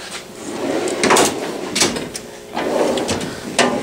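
Bottom drawer of a mechanic's Snap-on-style toolbox in a shop slides open with several scraping, clattering rolls and knocks, fairly close and alone without talk.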